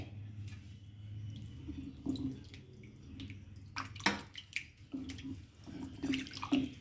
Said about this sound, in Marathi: आता आपण हे स्वच्छ दोन पाण्याने धुवून घेणार आहोत